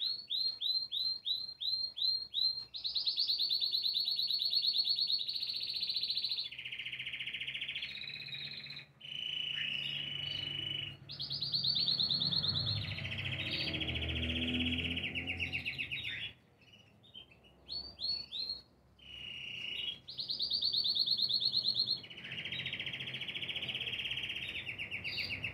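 An eight-year-old male canary sings close by in a long, bright song of rapid trills and repeated chirping phrases, with brief pauses between bursts.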